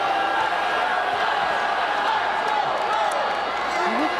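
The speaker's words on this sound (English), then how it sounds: "I think the crowd is not happy with that call." Crowd at a volleyball match murmuring and jeering in displeasure at a referee's call, a steady dense roar of many voices filling the arena without pause.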